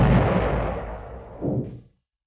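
A nuclear-bomb blast used to drive a massive space vehicle: a loud, broad rumbling boom that decays over about two seconds, followed by a second lower thump before it cuts off.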